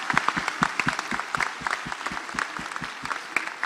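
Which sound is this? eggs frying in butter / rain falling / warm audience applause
warm audience applause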